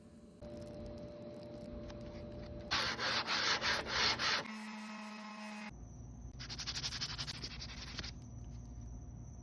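Hand sanding with a Serious Grit Lunar Block, heard as steady close-up rubbing strokes, a rapid burst of rhythmic scrubbing passes in the middle, then lighter repeated sanding strokes, with no talking.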